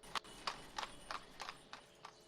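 Horses in the 1700s village sandbox game Ostriv, with a steady run of about seven clip-clop hoofbeats spaced evenly at a walking pace, moderately close and without talk.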